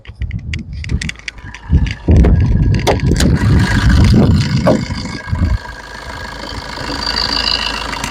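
A used car engine cranks briefly, then catches into a loud, rough rumble before settling into a steady idle, heard up close.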